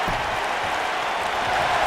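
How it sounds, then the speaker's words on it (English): A wrestling arena crowd at a WWE United States Championship match rises and cheers, a steady, dense roar of many voices and applause that holds level and swells slightly toward the end. "And the crowd is starting to come to their feet."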